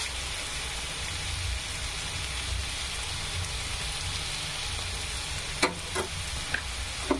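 Onions sizzle steadily in a pan with salt sprinkled over them, a soft continuous frying hiss with a few sharper clicks and pops near the end.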